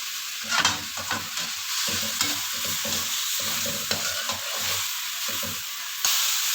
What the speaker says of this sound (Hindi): देखिए फुल हाई फ्लेम पे हमारी सब्जियां, चिकन सब अच्छी तरह से फ्राई हो चुका है